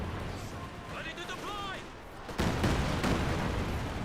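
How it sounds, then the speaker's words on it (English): A sudden heavy rumble of a Katyusha rocket barrage in Company of Heroes 2 breaks in midway and keeps roaring, loud and continuous, after a stretch of quieter battle noise with faint whistling. "We do have a Katusha barrage raining on in."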